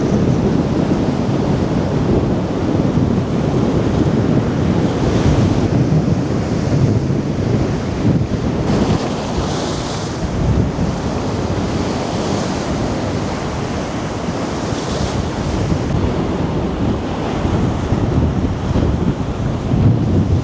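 Heavy sea waves at high tide pound against the Blackpool sea defence in a loud, continuous roaring surge, with strong wind buffeting the microphone throughout and no voices.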